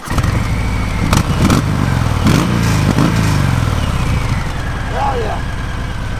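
A Harley-Davidson Sport Glide motorcycle fitted with a Bassani Road Rage exhaust rides past, its deep loud throbbing rumble swelling with several sharp throttle bursts, then easing as it moves on.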